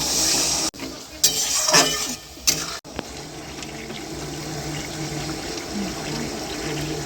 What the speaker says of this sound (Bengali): এই সসের বাটিটা ধুয়ে দিয়ে দিচ্ছি।